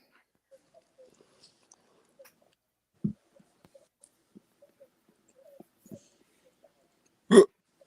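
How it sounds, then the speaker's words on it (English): A person hiccups twice in a quiet room: a small, muffled hiccup, then a few seconds later a sharp, louder one close to the microphone, with only faint shuffling between and no speech. "I got the hiccups."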